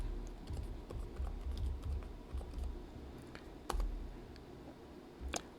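Someone types a folder name on a computer keyboard while using mapping software. The keystrokes are soft and fairly close, in an irregular run of light taps and clicks with a couple of sharper key presses.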